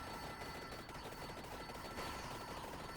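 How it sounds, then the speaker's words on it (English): Firework weapon in the Vampire Survivors video game fires off in a dense rapid burst of crackling pops, continuous and even, with no talking. "It's an actual firework."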